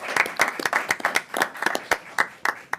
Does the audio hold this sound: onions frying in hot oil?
no